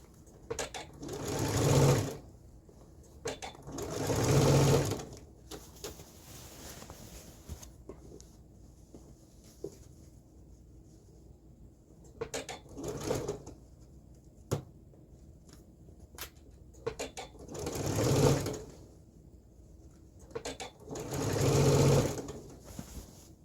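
A sewing machine stitches fabric for a skirt and culottes in repeated bursts of fast mechanical whirring, each run a couple of seconds long, separated by quieter pauses with small clicks and handling sounds.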